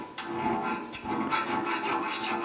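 A metal file skates over mill scale on steel during a root ripper repair, making a close, continuous raspy scraping with quick repeated strokes and a sharp click at the start.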